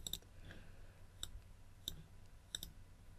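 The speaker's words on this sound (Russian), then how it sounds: "двойной клик." Computer mouse clicks during drawing work in Adobe Illustrator, four sharp close clicks spaced across a quiet room hum, the last a quick double click.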